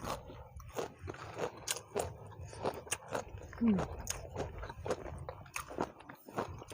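Crunchy squid tentacles from a spicy seafood cuttlefish dish are bitten and chewed up close, giving a run of repeated crisp crunches spread through the clip, with a voice speaking now and then.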